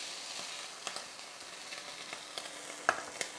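Browned meat sizzling steadily in a frying pan, a faint, even hiss with scattered small pops and crackles, with no talk.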